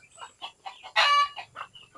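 Chickens clucking in a steady series of short calls, with one louder, longer squawk in the middle; close by and fairly clear.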